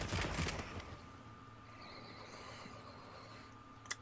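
A heavy bowgun fires in the Monster Hunter Wilds video game outside focus mode: a loud burst of rapid shots opens the clip, then fades into a low in-game rumble with faint tones.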